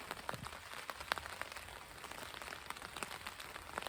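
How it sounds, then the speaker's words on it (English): Steady rain patters on a tent pitched beside the Jagst river, a dense soft hiss with scattered sharper drops tapping the fabric close by, continuous and even throughout. "Just thought I'd let you guys in on the rain."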